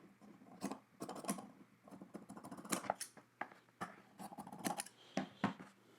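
Scissors trim the corner of a fabric piece, a run of quick, close snips in short irregular bursts with no talking.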